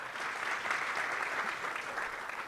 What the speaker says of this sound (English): That's where you give a round of applause.